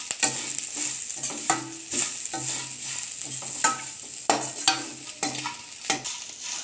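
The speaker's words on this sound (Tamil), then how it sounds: "அது வரைக்கும் நம்ம இதை வதக்கிக்கலாம்." A spoon stirs a vallarai keerai pulao mixture in a hot pan, a steady soft sizzle broken by repeated scraping strokes and light clinks, close and alone.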